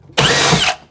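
A power drill bores a 3/4 inch hole through a wooden joist during a bathroom remodel, giving a single loud, steady whir that starts abruptly and runs just under a second before cutting off.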